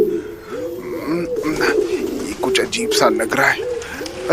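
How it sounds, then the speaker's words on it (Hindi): Many pigeons coo in an old mansion, soft repeated throaty calls overlapping in a rolling rhythm, close and fairly loud, while someone speaks nervously over them. "काफी पुरानी हवेली लगती है, लेकिन इतने सारे कबूतर।"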